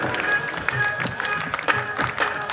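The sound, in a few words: audience clapping during a Hanuman bhajan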